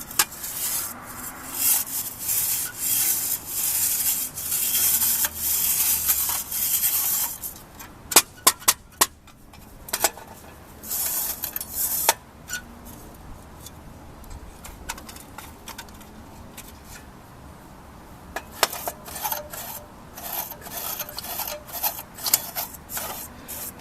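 A natural charcoal lighter for a hookah is scraped clean, giving a long stretch of close, rough rasping strokes in irregular bursts with short pauses, fairly loud and with no talking.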